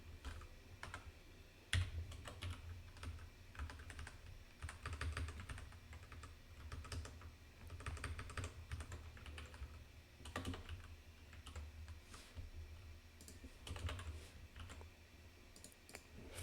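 Typing on a computer keyboard while writing Rust code, a soft, quiet run of irregular key clicks with brief pauses between bursts.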